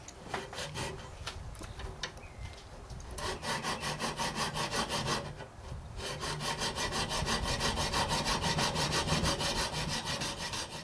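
A metal file rasps steadily against hoof nippers being sharpened, a continuous gritty scraping that settles into a fast, even rhythm of strokes, up close and alone.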